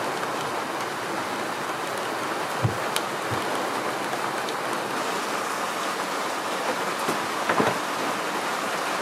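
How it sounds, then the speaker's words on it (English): Heavy rain falling at sea on a sailboat heading to Panama, a steady, dense broadband hiss with a few scattered louder drops and knocks, and no voices. "and then the rain came in"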